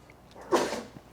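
One sharp sneeze bursts out close by, brief and loud against a quiet background.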